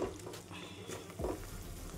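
Masala sizzles softly in oil for a bottle gourd and chana dal curry, a close, low hiss with light stirring scrapes.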